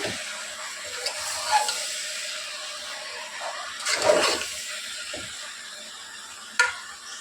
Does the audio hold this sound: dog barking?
no